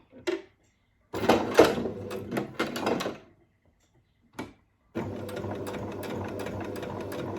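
A sewing machine back-stitches the edge of a dog bandana in several short bursts with pauses, ending in a steady longer run; close, moderately loud, no talk.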